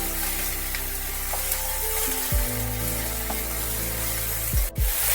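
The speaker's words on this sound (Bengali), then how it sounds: "পোস্ত বাটাটা দিয়ে ভালোভাবে তেলের সাথে ঢ্যাঁড়স আর পেঁয়াজ ভালোভাবে নেড়ে নিতে হবে।" Okra and onion stirred in hot oil with poppy seed paste, a steady close sizzle of frying with scraping turns of the spoon, continuous and alone.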